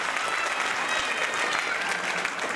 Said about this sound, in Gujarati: જોરદાર તાળી વધાવજો.